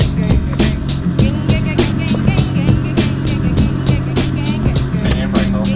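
An abandoned Toyota Soarer with a 1JZ turbo engine drives off for the first time, its rough engine droning steadily and close with a rattling, ticking clatter, and voices break in briefly.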